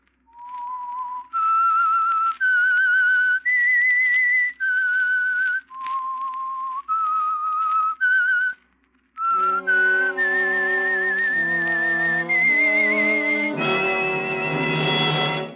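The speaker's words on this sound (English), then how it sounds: "That whistle is your signal for the Signal Oil Program, The Whistler." A lone whistler performs the eerie theme signal of The Whistler radio program, a melody of sustained notes climbing in steps, followed by a fuller orchestral chord passage. No voices are heard.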